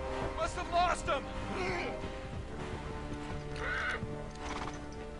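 Horses neighing and galloping in the video game Uncharted 3, with whinnies rising over hoof clatter during a chase, and voices talking over the action.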